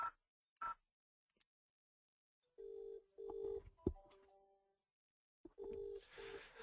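Phone system tones after dialing an office extension on a 3CX setup: a couple of short beeps, then repeated ringback tone bursts with gaps between them, fairly clear and alone.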